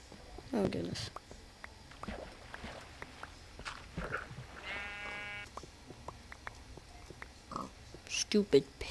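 Pigs oink in the Minecraft video game, short grunts scattered among in-game footsteps and block sounds, with a cluster of snorts toward the end, all faint.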